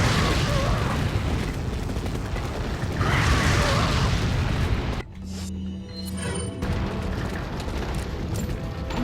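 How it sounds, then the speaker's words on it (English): A fire grenade goes off in Resident Evil 4 with a loud, broad burst of explosive roar that swells twice, then cuts to a quieter crackling, flickering tail of flames. "time to use some of these fire grenades I've been saving up"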